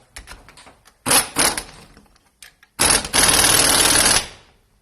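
Ford OBS pickup engine cranking after an alternator swap, a couple of short starter bursts followed by a longer harsh mechanical grinding crank, loud and close, ending abruptly.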